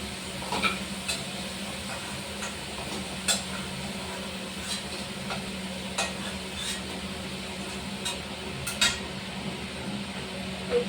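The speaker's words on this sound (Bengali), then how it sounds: "আলু ভাজা হয়ে গেছে, আলু তুলে নিচ্ছি।" Low, steady sizzle of potatoes frying in oil, with occasional clinks and scrapes of a utensil against the pan.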